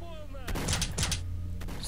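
A quick burst of rapid gunfire in the video game S.T.A.L.K.E.R.: Shadow of Chernobyl, close and loud, several shots in fast succession, with a voice heard briefly around it.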